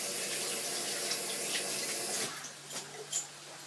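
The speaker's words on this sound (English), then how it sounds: "quick hand rinse" Hands rinsed under a running kitchen tap during home pie making, a steady close splashing stream that cuts off, leaving a few faint drips and light handling sounds.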